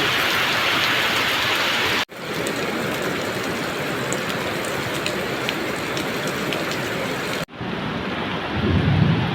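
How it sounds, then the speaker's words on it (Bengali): Heavy rain pours down in a dense, steady roar with constant hiss and patter on surfaces, interrupted by two abrupt cuts, with some low rumbling near the end. "অনেক বৃষ্টি হচ্ছে"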